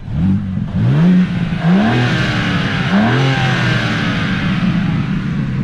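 A 2022 BMW M4 Competition xDrive engine revs up and down several times in quick succession, loud and close, its pitch rising and falling with each blip, with burbles and little induction noise.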